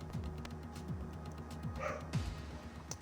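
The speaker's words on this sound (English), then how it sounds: "Apologise if you can hear my dog." A pet dog barks and yips faintly in the background of a home, a few short scattered bursts under a steady low engine-like drone from a racing game.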